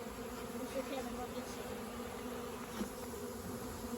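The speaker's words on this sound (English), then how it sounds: "here you can see the worker bees" Worker honey bees buzzing at an opened backyard hive with a honey super frame pulled, a faint continuous droning hum with small swells, no clear voices.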